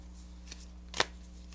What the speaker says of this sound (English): like you're moving the cards around